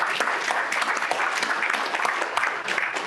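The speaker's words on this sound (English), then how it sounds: "Can we give them all a big round of applause?" Steady, moderately loud applause from an audience at an evening industry branch event fills about three seconds of dense, even clapping, with no clear speech over it.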